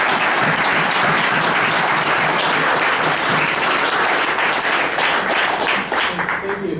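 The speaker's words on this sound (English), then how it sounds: "So can we have a big round of applause for our special guest?" Loud, continuous clapping from an audience welcoming a special guest, staying full and even throughout, with some voices murmuring underneath.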